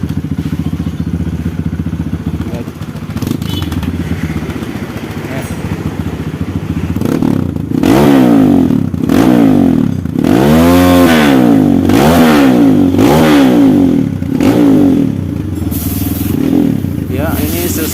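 Kawasaki KLX dirt bike engine with a faulty starter running roughly, idling, then revving in repeated uneven surges, loud and close, with someone talking over parts of it.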